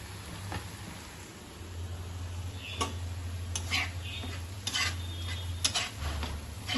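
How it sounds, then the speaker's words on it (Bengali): Onions frying in a pan for a Bengali mutton dish, a soft steady sizzle under intermittent clinks and scrapes of a spoon stirring against the metal. "লাল লাল করে পেঁয়াজগুলোকে ভাজছি"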